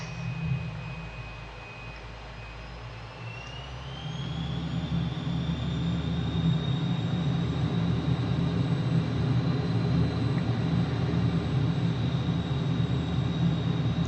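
F-15 Eagle jet in Microsoft Flight Simulator on approach with flaps and gear down, a loud continuous engine roar with a rising whine that steps up in pitch and then holds steady throughout.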